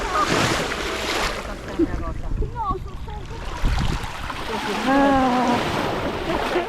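Sea waves wash and surge around the listener standing in the sea near Rome, Italy, with wind buffeting the microphone and a person talking and exclaiming over the water noise.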